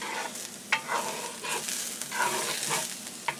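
Green beans fry and sizzle in a hot pan at a Chinese buffet-style cook station, with steady crackling broken by several scraping stirs of a utensil, no talking.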